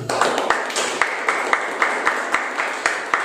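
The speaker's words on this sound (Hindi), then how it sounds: "फिर से ताली बजा के परमेश्वर को धन्यवाद दें" A church congregation at a midweek service claps together in rhythmic unison, regular sharp beats about every half second over a bed of scattered clapping, close and fairly loud.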